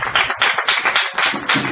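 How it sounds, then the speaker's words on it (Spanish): A small group claps for the band at a live acoustic show, a few hands beating in a quick, uneven rhythm, close and fairly loud. "un fuerte aplauso para ustedes"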